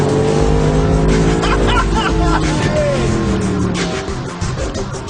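A Mercedes-Benz SLS AMG sports car drives hard on a handling circuit, its loud engine note rising and falling through gear changes, with brief tire squeal and a fading pass near the end.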